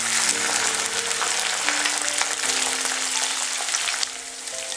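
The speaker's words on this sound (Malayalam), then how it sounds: "വെളുത്തുള്ളി, പച്ചമുളക്, ഇഞ്ചി, കറിവേപ്പില ഇത് എണ്ണയിൽ കിടന്ന് നന്നായിട്ടൊന്ന് വഴന്നു വരണം." Garlic, green chillies, ginger and curry leaves frying in oil, giving a loud, dense, continuous sizzle that eases slightly near the end, with no talking.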